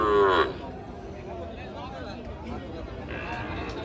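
A cow gives a short, loud moo at the start at a cattle market. A dense murmur of crowd chatter follows and continues throughout.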